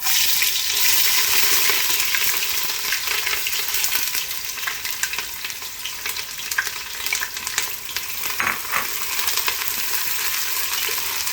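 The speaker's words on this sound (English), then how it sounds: "So I'm going to add the onions to it." Onions hitting hot oil already heated with cloves and a cinnamon stick, loud continuous sizzling and crackling up close, with stirring scrapes and a few brief clinks, no voices.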